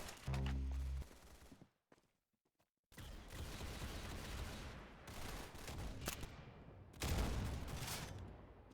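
Gunfire in the Roblox shooter game Arsenal, rapid bursts of shots in loud close volleys broken by a short silent gap, resuming with dense firing and a heavier burst near the end.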